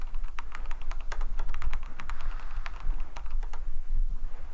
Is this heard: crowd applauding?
no